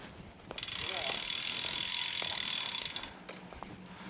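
The freewheel ratchet of a Giant Propel Advanced Pro 0 road bike buzzes in a fast, even clicking run that swells and then fades, fairly close and clear, with a few brief sharper ticks at its start and end.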